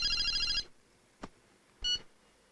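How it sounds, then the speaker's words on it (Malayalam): A telephone ringing in a dramatic film scene: a loud electronic ring burst, a brief click, then a second shorter ring, close and clear with no talking. "ഫോൺ വരുന്നു."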